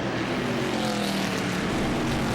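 Stock cars race past at Langley Speedway, a dense, loud roar of engines droning continuously with a rising and falling pitch as they pass.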